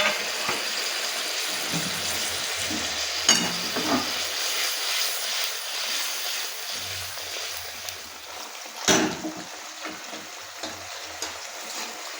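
Pieces of fried fish going into a fish curry gravy that is already boiling, with an ongoing sizzle and bubbling, soft scraping and a couple of sharper clatters.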